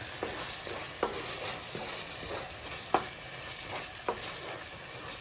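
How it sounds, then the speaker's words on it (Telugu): A spoon stirs coconut powder into a tomato and cauliflower curry in a pan, giving soft irregular scrapes and taps over a quiet continuous sizzle, with no talking. "ఇప్పుడు ఇందులో కొద్దిగా కొబ్బరి పొడి వేసుకొని కలుపుతున్నాం."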